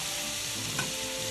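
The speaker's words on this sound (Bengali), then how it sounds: "এই যে ভাজা ভাজা হচ্ছে" Onion and capsicum frying in oil in a pan give a steady, close sizzle with a brief stirring scrape partway through, with no voices.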